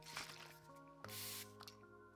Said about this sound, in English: they're even similar the way that they spray